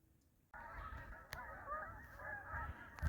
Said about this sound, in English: you sure can hear the geese this morning